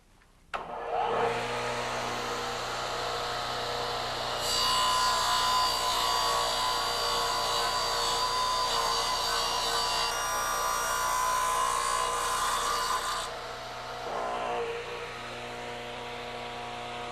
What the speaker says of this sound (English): So now I'm ready to cut the kerfs out for the mortise.